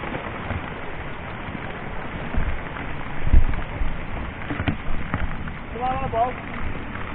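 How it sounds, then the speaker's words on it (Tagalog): Heavy rain from Typhoon Carina pours down in a steady, dense hiss throughout, with faint voices and a few knocks under the downpour. "Imbis na humina, parang lalo pang lumalakas yung ulan."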